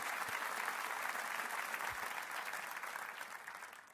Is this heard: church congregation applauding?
yes